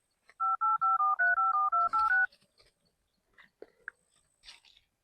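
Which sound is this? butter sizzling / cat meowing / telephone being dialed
telephone being dialed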